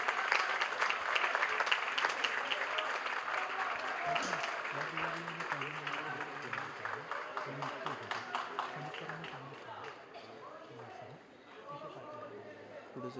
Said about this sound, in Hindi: जोरदार तालियां सर इस खास तोहफे के लिए